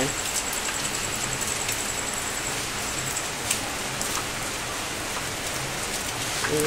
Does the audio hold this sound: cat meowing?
no